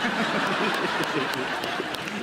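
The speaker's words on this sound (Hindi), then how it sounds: "तो इसके लिए हम तुम्हारे लिए ताली बजाते हैं।" A studio audience at a Hindi poetry competition show breaks into brief, steady applause, a dense wash of clapping lasting a couple of seconds with faint voices underneath.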